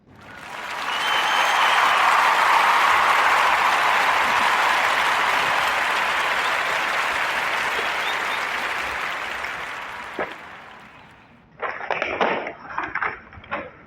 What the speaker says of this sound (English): So give a warm narrative podcast a round of applause for Mrs. Carmen Allen Day.